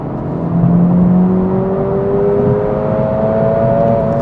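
A 2025 Acura Integra Type-S accelerating hard in Sport Plus mode, engine tone rising through the revs with a gear change partway through, loud and close with steady road and wind noise, no talking.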